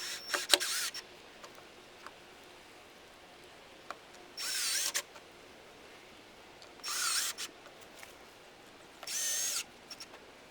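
Three separate bursts of a power drill boring holes in wood, each lasting about a second, spaced apart over a quiet background, with a few faint clicks early on.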